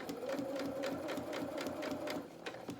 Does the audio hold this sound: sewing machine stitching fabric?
yes